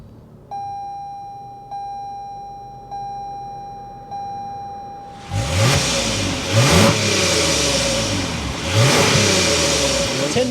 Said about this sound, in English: start up this V6 so you can hear that exhaust note